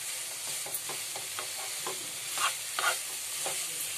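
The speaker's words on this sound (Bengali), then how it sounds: "এইভাবে ভালো করে নাড়িয়ে নাড়িয়ে আমাকে পুরো গুড়টাকে নারকেলের সাথে মিশিয়ে নিতে হবে খুব ভালো করে।" Grated coconut and jaggery are stirred together in a pan for a sweet filling. Soft rhythmic scraping strokes sound over a faint sizzle, with a couple of louder swipes midway. No one speaks.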